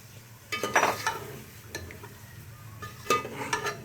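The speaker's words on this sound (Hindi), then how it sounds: "और अब इसमें मैरिनेशन किया हुआ चिकन जाएगा।" Marinated chicken hits a hot pan for chicken do pyaza, giving two short bursts of sizzling and stirring clatter, close and fairly loud, with quieter frying between.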